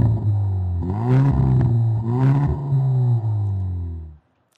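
The engine of a Hyundai i30 N rumbles close by and rises in two quick revving bursts over a steady idle before cutting off abruptly near the end.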